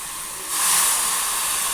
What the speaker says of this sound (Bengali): এবার এর মধ্যে আমি জল অ্যাড করে দেব।